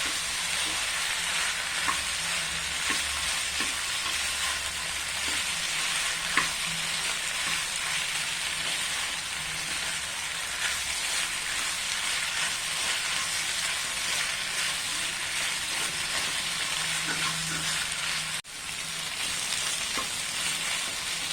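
Pasta tossed with masala in a frying pan for a Malayalam macaroni dish, giving a steady broadband sizzle with scraping stir strokes throughout, close and fairly loud, with no talking.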